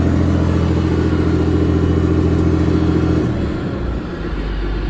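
A 2009 GMC Topkick C7500 with a 7.8L 6HK1 diesel, straight-pipe exhaust and DPF removed idles loud and close with a steady deep rumble, then the revs drop noticeably as the PTO is switched off.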